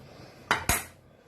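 A spoon knocks twice against a pot while palm oil is mixed into ngombo sauce, two quick, close metallic clinks in an otherwise quiet kitchen.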